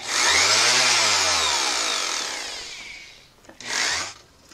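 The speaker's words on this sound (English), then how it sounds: "Do you want me to film you sanding it too?" Power sander working a wooden gaming table whines loud and close, its pitch rising then gradually winding down and fading, followed by a short second burst.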